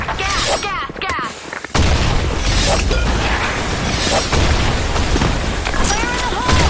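A grenade detonates on the Sand Storm map of an online shooter game: a sudden heavy blast about two seconds in, then a sustained loud rumble with scattered gunfire, with game voice callouts heard before and after.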